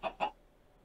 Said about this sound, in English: They are supposed to be chickens.